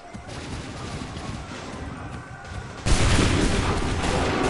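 Musket volley in Assassin's Creed 3: a dense burst of gunfire crackles in a rough wash, then a louder, fuller blast of massed shots erupts partway through and keeps roaring to the end.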